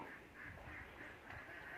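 Domestic ducks quack on a Thai farm where the birds are kept for eggs, a steady chorus of repeated quacks running through the whole stretch at moderate distance with no talking.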